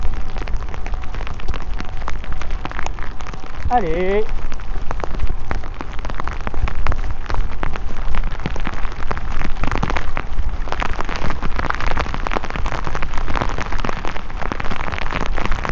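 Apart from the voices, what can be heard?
heavy rain falling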